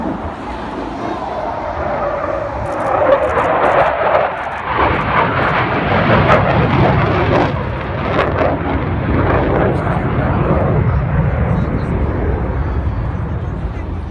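Aircraft engine noise at the Bournemouth Air Show 2019, a loud, sustained roar from a plane flying a display routine that ends in normal forward flight, with a crowd and voices mixed in throughout.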